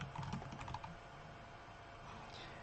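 Brief light keyboard typing on a computer, a quick cluster of soft keystrokes near the start that fades into a steady background hiss, with no voice.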